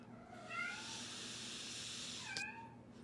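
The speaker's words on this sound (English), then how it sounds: "My cat is saying hello." A cat meows twice in the background, faint and a little distant, with a short pause between the calls, over a low steady room hum.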